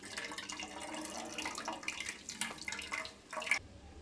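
Water poured and splashing in a kitchen while coconut milk is filtered from grated coconut, with uneven bursts of trickling and dripping close by and no talking.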